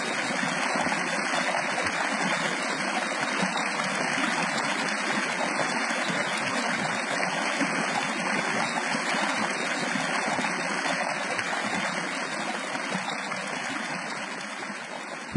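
Water of a clear lake laps and streams in a steady, continuous wash, a dense broadband flow that holds even throughout with no voices.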